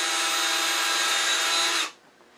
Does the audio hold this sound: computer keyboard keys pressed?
no